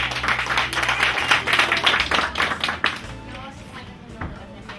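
An audience at a morning event in Baguio claps in a rhythmic, tapping pattern under a low musical hum, loud and close at first, then thinning out toward the end.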